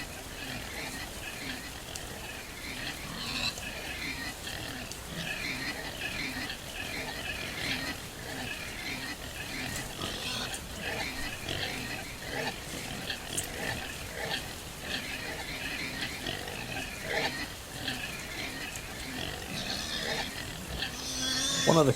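Pigs in a truck trailer in a trucking video game squeal, oink and grunt continuously, a busy overlapping chorus at moderate level that runs throughout without speech.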